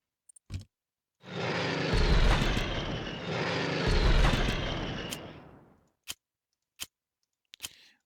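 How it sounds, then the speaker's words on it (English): World War II fighter planes roar past twice in a strategy game set during the Normandy breakout, the engine drone swelling, peaking and fading away over several seconds, followed by a few sharp interface clicks. "We have planes."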